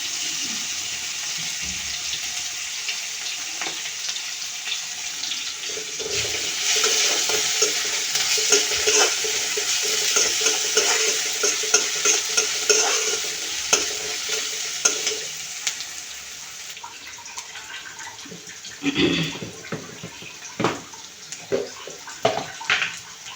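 Onion fries in a pan over a lowered flame with a continuous hissing sizzle, and irregular stirring scrapes grow more pronounced toward the end, with no talking.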